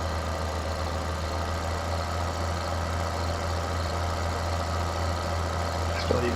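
A big tractor in the Farming Simulator video game runs its engine steadily under a heavy load, a continuous low mechanical drone throughout with no talking.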